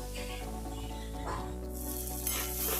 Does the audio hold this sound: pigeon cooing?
no